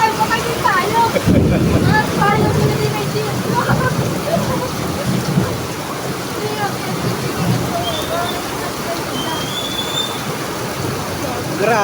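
Heavy rain roars steadily close by, a dense wash of noise with gusts of wind buffeting the microphone.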